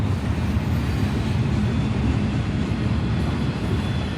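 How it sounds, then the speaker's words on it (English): A train rolls through Kansas City, a steady loud low rumble of wheels and cars passing close by with no pauses. "Had to get a little shot of the train here as it was rolling through"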